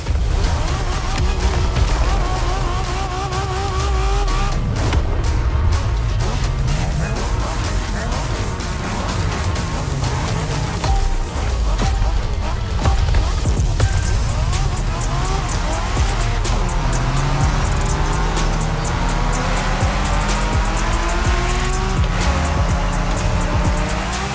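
Racing-game car engines roar continuously through a Japanese street race in The Crew Motorfest, with tires squealing and skidding repeatedly over loud, rising and falling engine revs.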